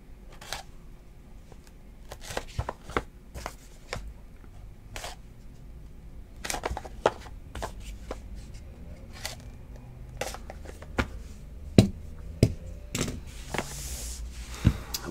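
Trading cards from a 2018 Immaculate Baseball box being cut and shuffled by hand: quiet, scattered snaps and flicks of card stock at an irregular pace, close up with no talking.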